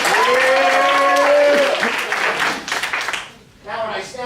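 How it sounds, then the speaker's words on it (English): Audience applause at a stage hypnosis show, loud at first with voices and cheers, thinning into scattered claps before a brief lull and a final spatter. "another round of applause."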